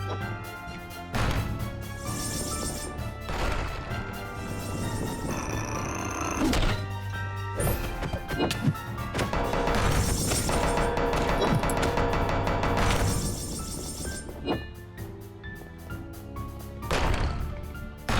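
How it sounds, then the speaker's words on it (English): Heavy cannon shots in a modded Minecraft StoneBlock 4 game, a series of dull thunking blasts landing over steady game music, fairly loud and close. "now I can use the cannons again"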